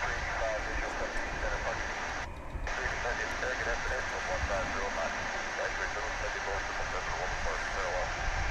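An American Airlines jet at DFW International Airport gives off a steady, loud broadband roar that holds evenly throughout, with indistinct voices faintly underneath.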